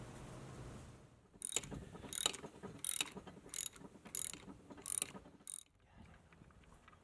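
Ratchet wrench loosening pool pump motor mounting bolts, several close bursts of rapid clicking in a steady back-and-forth rhythm with short pauses between them, and no talk.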